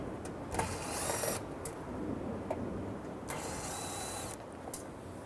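Two Phillips screws being removed from the top of a washing machine lid switch, heard as two bursts of mechanical whirring and ratcheting with a thin whine, separated by quieter handling noise.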